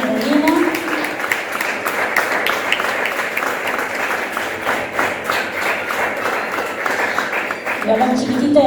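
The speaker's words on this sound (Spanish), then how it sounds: "damos un fuerte aplauso al Señor" A church congregation breaks into loud, sustained applause that fills the room, dense overlapping claps running steadily for several seconds, with voices heard at the start and end.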